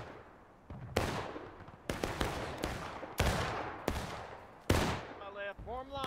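Musket volleys crash out in the Civil War game War of Rights, five loud broadband blasts at irregular intervals with long decaying rolls, plus faint distant crackle and a short whistling call near the end.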